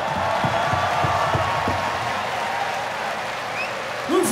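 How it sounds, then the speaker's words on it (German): Concert crowd at the Wacken festival clapping and cheering, a broad wash of applause under a band's stage sound, with a brief vocal shout near the end. "Einen großen Applaus für euch selber."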